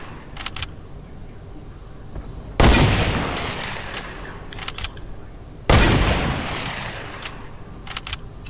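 Two loud, close gunshot blasts from Fortnite gameplay, spaced about three seconds apart, each with a decaying tail, and smaller clicks and shots scattered between them.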